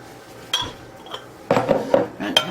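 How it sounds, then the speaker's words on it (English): Warm glass canning jars picked up and set down in a kitchen while canning ham hocks, several sharp clinks and knocks in quick succession with pauses between. "Let me grab a couple of jars."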